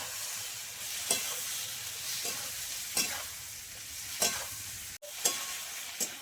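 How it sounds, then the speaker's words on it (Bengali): Snake gourd fries with onion and tomato in a pan, a soft continuous sizzle broken by several sharp stirring scrapes at a steady rhythm, with no talking. "চিচিঙ্গা দিয়ে আমি আরো 2 মিনিট এরকম চিচিঙ্গার সঙ্গে পেঁয়াজ টমেটো ভেজে নেব।"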